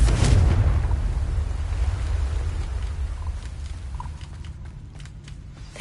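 A Confringo fire spell blasts in Hogwarts Legacy with a loud, deep explosive burst at the start, then a rumbling, crackling tail that slowly fades across several seconds.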